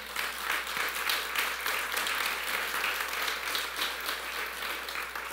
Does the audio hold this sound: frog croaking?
no